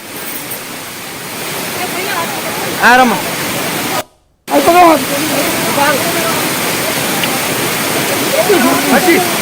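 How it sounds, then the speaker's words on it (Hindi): Loud, steady rushing of water flowing beside a narrow mountain path on the Amarnath route, a constant roar under voices, briefly cutting out midway. "पानी बह रहा है"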